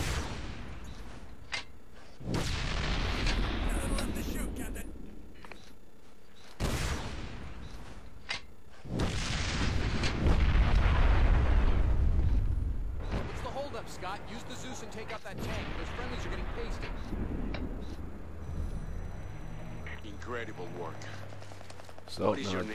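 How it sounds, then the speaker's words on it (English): Rockets fired at a tank in the video game Ghost Recon Advanced Warfighter 2 boom and thud through a dense battle mix of explosions and gunfire, loud and close, with voices talking over much of it. "then start shooting rockets at the tank"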